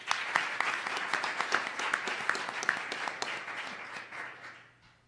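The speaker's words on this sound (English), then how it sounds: "Perhaps a round of applause for the panel first." A conference audience applauds a panel at a side event on resilience, a moderately distant round of crisp, overlapping claps that holds steady and then thins and fades out toward the end.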